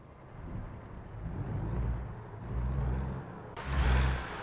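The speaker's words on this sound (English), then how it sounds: "So let's see how the Peterbilt sounds." A stock-sounding Peterbilt truck engine in American Truck Simulator drones steadily with a low rumble and swelling revs, followed by a sudden hiss near the end.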